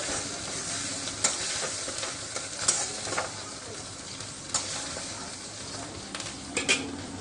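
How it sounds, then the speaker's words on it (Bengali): Ground coriander, chilli and Kashmiri chilli powder frying in a pan for katla fish curry, a steady loud sizzle broken by repeated scraping stirs of a spoon against the pan. "এবার আমি সমস্ত মশলাগুলো এর মধ্যে দিয়ে দিলাম।"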